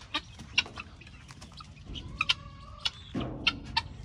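Several young grow-out chickens cluck and chirp in short, scattered bursts nearby, with soft rustling and a low drone underneath.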